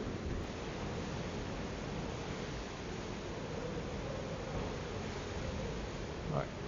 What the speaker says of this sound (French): Ben, c'est fou les vagues.